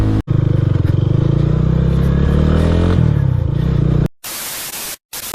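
A modified Lifan KPR 165 motorcycle rides steadily with a loud, continuous engine drone and wind roar for about four seconds, then cuts to brief bursts of harsh wind noise.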